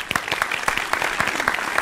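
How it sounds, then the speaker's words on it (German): An audience in a room claps steadily for a couple of seconds, a dense patter of close, moderately loud handclaps without cheering. "Ein Applaus für Frank Abi."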